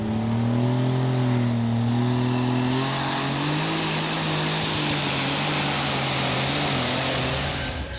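Superstock pulling tractor You Never Know, driven by Sven Klingsheim of Norway at the 2014 Eurocup tractor pull in Brande, Denmark, roars and revs, its pitch climbing into a sustained, loud, high-pitched engine scream.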